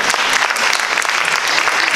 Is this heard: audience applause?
yes